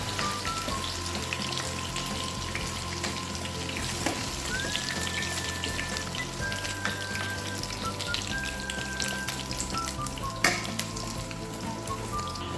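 Garlic pepper chicken frying in a pan, a constant dense sizzle close by, with a few faint stirring clicks and one sharper knock near the end.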